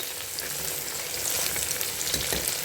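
Chicken kurma masala sautéing in a pan, a continuous loud hiss of frying oil with faint stirring movement underneath.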